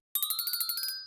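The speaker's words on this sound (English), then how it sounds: "Is it the ancient Apple ringtone, the precursor to Kiwi?" An old Apple phone ringtone, a quick run of about a dozen bright chiming notes in a rapid rhythmic pattern, clear and close, fading at the end.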